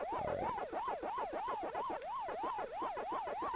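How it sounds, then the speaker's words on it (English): A looping electronic siren from Pac-Man's ghosts warbles up and down in a steady, quick rhythm, with no voices. "That classic sound from the ghost."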